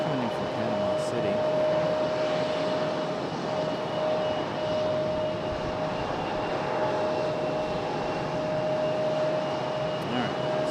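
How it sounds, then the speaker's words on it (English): A Copa Airlines jet arriving from Panama City at Raleigh-Durham airport produces a continuous moderate engine rumble with a steady whine, and a voice talks over it. "Copa Airlines coming in from Panama City"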